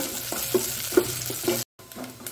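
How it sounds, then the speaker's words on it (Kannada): Dry grated coconut fries in a pan as a spoon stirs it, giving a soft, steady sizzle broken by several distinct scraping strokes and a brief silent gap near the end. "ಡ್ರೈ ತೆಂಗಿನ ತುರಿಯನ್ನು ಸ್ವಲ್ಪ ಅದರಲ್ಲಿ ನಾವು ಫ್ರೈ ಮಾಡಿಕೊಳ್ಳೋಣ"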